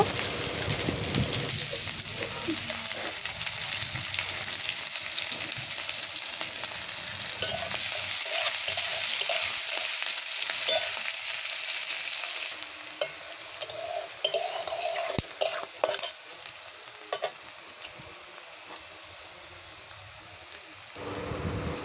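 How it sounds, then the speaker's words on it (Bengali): Chopped onions with green chilli fry in oil in a pan, giving a dense continuous sizzle like steady rain, with spatula scrapes and stirring knocks growing more distinct toward the end, close and alone. "কিছুটা কেটে রাখা পেঁয়াজ ওর সঙ্গে দিয়ে ভেজে নেব"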